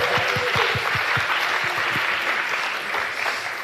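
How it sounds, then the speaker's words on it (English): A crowd applauds steadily at a livestreamed event, a broad wash of clapping with some louder individual claps near the front early on. "Give him a round of applause."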